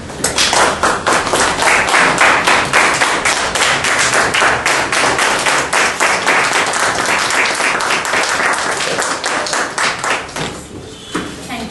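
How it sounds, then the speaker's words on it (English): Sustained, loud applause and a standing ovation from a large crowd, steady clapping for about ten seconds before tapering off at the end. "a great round of applause and a standing ovation"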